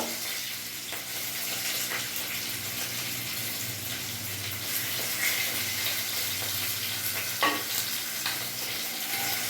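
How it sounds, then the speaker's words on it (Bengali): Pomfret fish frying in hot oil in a pan, a continuous close sizzle with a faint bubbling undertone and an occasional soft clink, alone without speech. "মাছগুলো আমার লাল লাল করে ভাজা হয়ে গেছে।"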